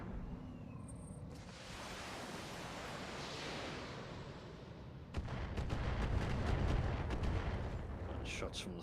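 Weapon shots in the Free Worlds BAU2 mod battle game, a hissing roar building and then a burst of rapid, sharp cracks and booms close by, fairly faint overall.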